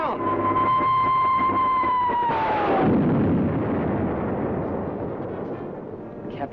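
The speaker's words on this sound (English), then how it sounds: "Captain Video exploded that rocket in midair." A rocket blows up in midair in a 1951 sci-fi serial: a descending whistling tone gives way to a loud, close roaring blast that rumbles and slowly fades.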